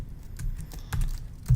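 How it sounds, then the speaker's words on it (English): Quick bursts of typing on a computer keyboard while entering web page text, a run of close, clicky keystrokes in an uneven rhythm with a few louder taps, heard alone without speech. "And I can just type out my content."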